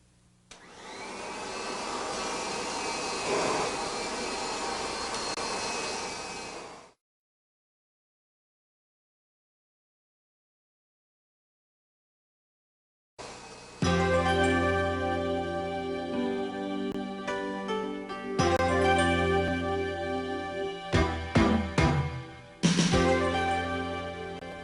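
A Kirby Generation 3 upright vacuum cleaner whines loudly for several seconds, falls silent, then starts again with a steady roar broken by brief dips and surges.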